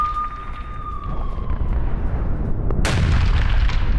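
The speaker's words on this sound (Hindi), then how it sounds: "यूक्रेन की ट्रेन पर इस्कंदर मिसाइल से हमला किया गया।" Iskander missile strike on a weapons supply train in Ukraine: a high whistling tone fades out, then a sudden heavy blast erupts into a loud, sustained rumbling roar.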